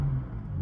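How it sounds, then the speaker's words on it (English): A BMW engine is given a light rev, a brief, low rumbling swell of engine sound heard close by and alone. "I just give it a few baby revs because I don't want my neighbors to hate me"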